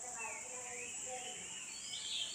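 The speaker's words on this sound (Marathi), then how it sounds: "वेगवेगळ्या चिमण्यांचा आवाज येतोय।" Various sparrows chirp faintly at foggy dawn around a village house courtyard in Konkan. They give scattered short calls over quiet morning air.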